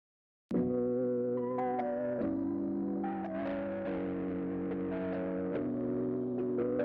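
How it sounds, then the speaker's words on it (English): Distorted, saturated musical notes with a warm, gritty tape-like edge from a Kramer tape machine plugin pushed hard on record level, playing in a steady phrase after a sudden start. "a really nice, colorful distortion from the Kramer tape"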